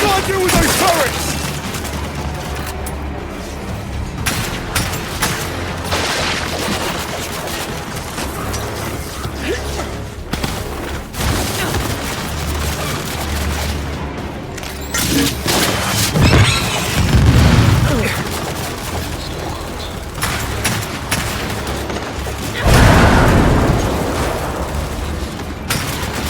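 Gears 5 video game combat: dense turret gunfire and heavy explosion booms roll on almost continuously, loud and close, with shouted character voices over the battle.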